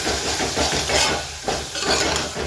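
Ridge gourd curry cooking with tomato masala is stirred in a pan, a close sizzling hiss broken by soft scraping strokes of the spoon, with no voices.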